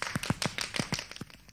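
A small burst of quick hand clapping, used as applause from a group of rabbits in a children's story, gives about ten sharp claps in an uneven rhythm, close and fairly soft, with no talk.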